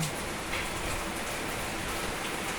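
Steady, loud rain pours down during a storm with strong wind, a dense continuous hiss filling the whole moment near the listener, with no voices.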